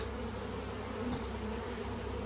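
Bees rescued from a 15-year-old house beehive, a dense, continuous buzzing swarm heard close up and alone, steady throughout.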